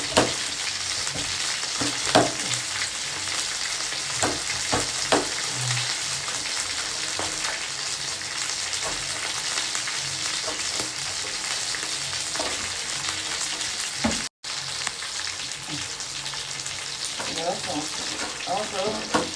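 Two julienned peppers fry in a pan for Sunday dinner, a steady close sizzle that runs throughout, with occasional clicks and stirring scrapes and one brief dropout near the end.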